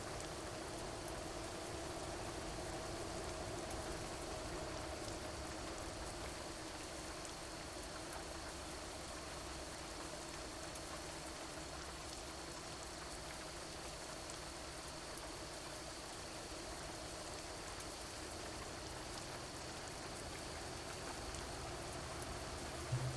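Steady rain falls in Euro Truck Simulator 2 at night, an even, constant hiss of drops with a low rumble beneath, continuous and moderately faint throughout.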